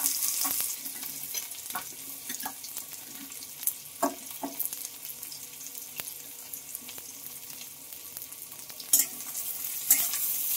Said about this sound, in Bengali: পেঁয়াজটা এখন একটু ভালোভাবে ভেজে নেব